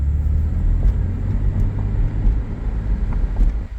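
A 2004 Porsche 911 Carrera Cabriolet with a manual gearbox pulls along in second gear, its engine a steady, close, loud rumble that swells slightly and then eases off near the end.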